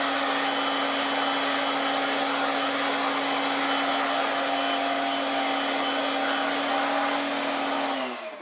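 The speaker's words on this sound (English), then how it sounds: "I also happen to have a little air compressor, which makes it a little nicer to get clean" A small air compressor blows air through a line to clean out a Heat Surge electric fireplace cabinet, giving a constant, loud, close hiss with a steady low hum that holds unbroken and tapers slightly at the end.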